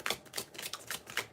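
Tarot cards are shuffled by hand in quick crisp bursts, a run of about five riffling pulses close to the listener at low volume, with no speech.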